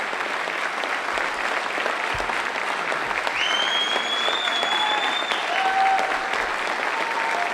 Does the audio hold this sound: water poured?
no